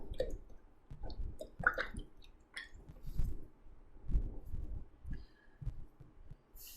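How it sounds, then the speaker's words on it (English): Cold process soap batter with patchouli being stirred by hand, a soft wet squishing and sloshing in uneven pulses, close and quiet with no talking. "I'll just give those a little hand stir here."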